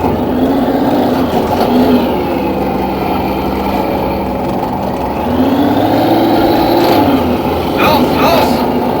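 Panzer IV tank engine in the game Red Orchestra 2, a loud steady drone with pitch swelling as it drives down a street, with a voice speaking over it and a few sharp clanks near the end.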